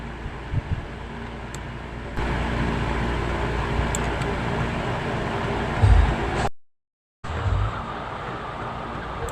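Steady train ride in the Roblox game Robloxia States, bound for James Street Station: a continuous rumbling drone with brief faint squeaks, a short cut to silence near the end, and no voices.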